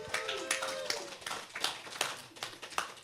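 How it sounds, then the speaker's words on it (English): A short burst of scattered hand clapping from a small crowd at a local live music event in a brewhouse, uneven and fairly faint, fading within a few seconds. "Give yourselves a big round of applause for supporting local music."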